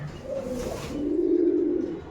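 Rajshahi Giribaz pigeons in a loft give a steady, close run of low cooing, one soft call swelling into a longer rolling coo.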